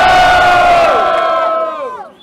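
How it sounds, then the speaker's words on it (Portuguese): A loud crowd cheers and shouts for a rapper at a rap battle final in Botafogo, a sustained roar of many voices that holds strong and then fades toward the end. "Barulho Choice, Botafogo"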